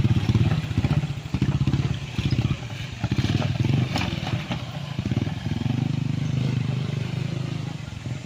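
Motorcycle engines rumble and buzz as they pass close by on a road in Calauan, Laguna, Philippines, the drone rising and falling over several seconds amid some clatter.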